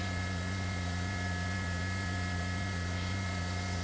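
A helicopter's engine and rotors drone steadily and loudly, a constant mechanical hum with no break.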